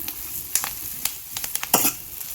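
Curry leaves dropped into hot oil for a Kerala-style koorka curry crackle and sizzle in a few sharp, spaced pops, with one bigger burst near the end, close and moderately loud with no talking.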